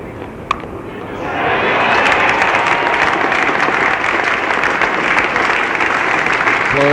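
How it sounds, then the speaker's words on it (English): A Lord's Test match crowd breaks into sustained applause for a batsman's half-century, the clapping swelling after a quiet first second and holding steady, broad and distant across the ground. "Applause for Gary Sobers' half-century."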